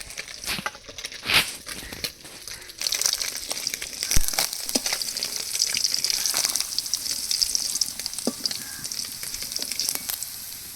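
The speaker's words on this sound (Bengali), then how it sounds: "এবার মৌরলা মাছগুলো সব ভেজে নেব" Small mourala fish fry in hot oil, a sizzling hiss broken by sharp crackles and spattering pops that grows louder and busier after the first few seconds.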